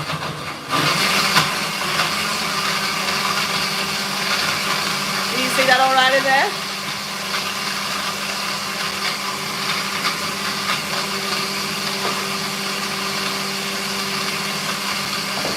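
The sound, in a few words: blender mixing a banana smoothie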